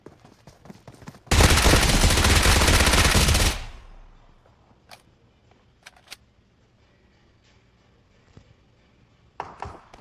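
A loud, sustained burst of rapid automatic gunfire lasting a couple of seconds, followed by a few scattered faint clicks and one more short burst at the end.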